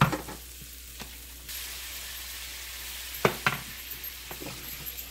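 Chicken teriyaki kabobs sizzle on a George Foreman grill, a steady hiss that jumps louder as the skewers are flipped, followed by a couple of sharp clicks and scrapes and then continued frying.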